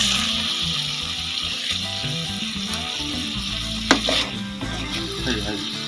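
Pre-fried potatoes sizzling as they are sautéed in spice paste, a close crackling sizzle with stirring scrapes and one sharp clink, continuous and without speech.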